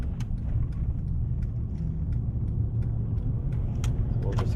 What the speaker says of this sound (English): So we'll just accelerate here until we get to our hill.